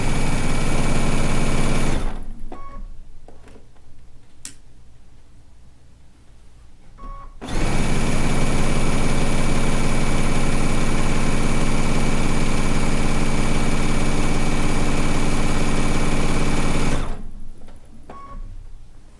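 A sewing machine stitches a stone log cabin quilt block with 40 weight Madeira Aerofil polyester thread top and bobbin, running loud and close in two long steady bursts separated by a quieter pause.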